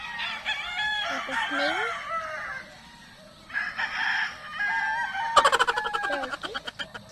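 Chickens and a rooster on a farm cluck and crow several times at close range, with a loud rhythmic crow near the end; a person asks a brief question partway through.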